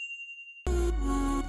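A bright notification bell chime rings once as a single sustained tone, then gives way abruptly to a louder, fuller bell-like jingle that rings on, clear and close with no talking.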